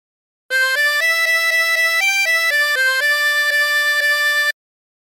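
A harmonica plays the melody of She'll Be Coming Round the Mountain, clear reedy single notes in a steady sequence of blows and draws, close and solo for about four seconds.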